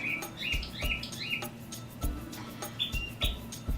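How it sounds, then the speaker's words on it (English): Small birds chirp in short bright bursts, several quick tweets repeating through the clip at moderate distance, with soft thumps and movement from an exercise session underneath. "Our birds are back."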